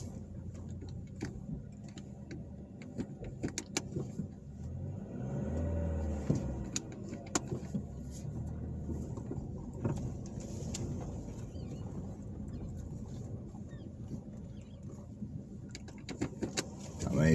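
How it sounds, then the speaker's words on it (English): Car interior while driving slowly along a dirt road in Georgiana, Alabama, with a low steady rumble of tires on rough ground and scattered small rattles and ticks. Birds call faintly outside. "right now, I'm driving on a dirt road"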